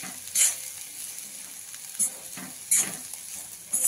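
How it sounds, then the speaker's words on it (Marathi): Grated carrot vegetable sizzling in an oiled pan as it is stirred, with steady frying hiss broken by several sharp scraping bursts of the spoon against the pan, close and moderately loud. "अरे आपण चांगलं हलवून घेऊ आता"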